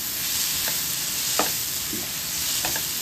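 Chili garlic paste made from Sankeshwari and green chilies, frying with softened vegetables for leftover-rice tava pulao, gives a steady close hiss with a few soft stirring scrapes and no talk.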